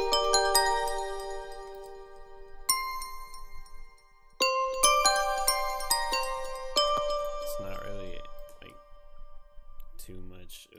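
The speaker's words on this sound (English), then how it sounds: "the next sound I grabbed is the Beethoven bell" A bright, bell-like Beethoven bell synth plays a stepping melody of ringing notes with long decays, moving up and down the scale in a clear, close tone.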